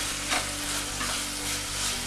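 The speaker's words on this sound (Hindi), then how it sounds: "हमें इसे थोड़ा सा और पकाना होगा, हमें इसे ड्राई कंसिस्टेंसी में लाना है जिससे हम अपने मोदक बना सकें" A coconut, sugar and milk mixture for coconut modak cooks in a pan while being stirred, giving a loud, continuous sizzle with rhythmic scraping strokes of the spoon.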